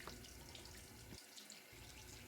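Tap water runs steadily into a sink or tub, filling it for a pet's bath; a continuous close hiss of flowing water with a short dip partway through and no voices.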